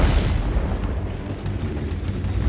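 Heavy, continuous rumbling booms fill the clip, like distant artillery blasts merging into a low roar, with no pauses, in World of Tanks on the El Halluf map.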